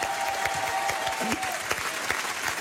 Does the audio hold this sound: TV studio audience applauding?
yes